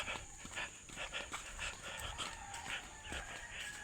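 A nearby dog pants and makes small whimpering noises against a busy outdoor background.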